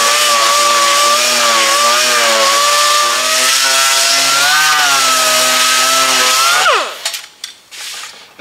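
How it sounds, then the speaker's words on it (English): A DA sander strips paint from a solid-body electric guitar, giving a loud steady motor whine that holds for about six seconds, then winds down and stops. A few scraping handling noises follow. "running my DA sander over it for approximately a minute and a half or less"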